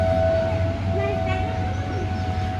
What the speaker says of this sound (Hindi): इतनी बड़ी बड़ी रेलगाड़ी जा रही है